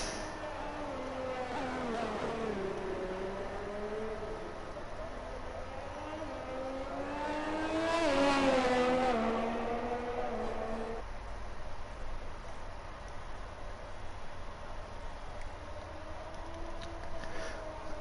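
Race cars run a lap of a Mexico circuit in a PS4/PS5 racing game, with a continuous engine drone that climbs and falls in pitch through gear changes and swells as a car passes close.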